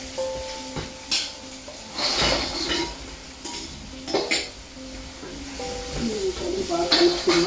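Chicken pieces sizzling in a pan for chicken pachadi, stirred with a spoon that clinks and scrapes against the metal at irregular intervals, close and steady under a continuous frying hiss.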